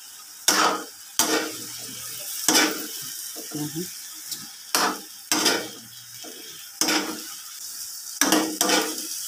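Cabbage hits a hot pan and is stir-fried with vegetables, giving a run of loud sizzling bursts, each followed by scraping and stirring clatter of a utensil against the pan, repeating at irregular intervals close by.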